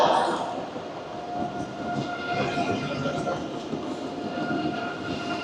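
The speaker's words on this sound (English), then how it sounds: "And now here comes our train." A train rolls in along the platform, a steady rumbling clatter with squealing wheels and hum, moderately loud and continuous, voices faint in the background.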